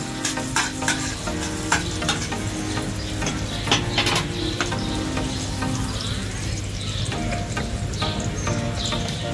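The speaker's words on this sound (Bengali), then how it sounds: "তেল গরম হয়ে গেলে এখানে দিয়ে দেব রসুন কুচি, পেঁয়াজ কুচি, কাঁচামরিচ কুচি। এগুলো ভালো করে ভেজে নেব।" Chopped garlic, onion and green chili frying in hot oil, a steady loud sizzle with scattered crackles and pops, stirred now and then with clinking utensil scrapes throughout.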